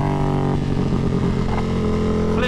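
A BMW F900 R Cup race motorcycle on a track, its loud, close engine droning at a steady pitch before the note shifts and rasps as it passes.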